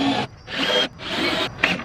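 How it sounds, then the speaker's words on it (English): A power drill pre-drills into a piece of wood for a desk shelf, running in three close bursts of loud, rising whirring separated by brief pauses. "I'm going to pre-drill it out now. This way we don't crack that piece of wood."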